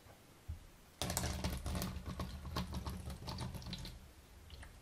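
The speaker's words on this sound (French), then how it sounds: "je mets l'entonnoir dans le flacon. Logique. Et on va commencer par verser l'eau." Water poured through a funnel into a spray bottle, a close, splashing, gurgling trickle that starts abruptly and fades toward the end, with no talk.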